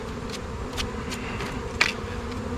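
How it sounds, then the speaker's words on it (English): Excited honeybees buzz around an open Layens hive during a fall inspection, a steady close hum with a few sharper passes of single bees flying near. "Nothing like getting bees excited."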